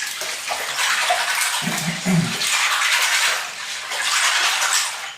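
Lego pieces hand washed in dirty water, giving continuous close sloshing and splashing with light clattering of small plastic bits, steady and loud throughout with no talking.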